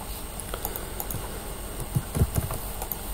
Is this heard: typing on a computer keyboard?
yes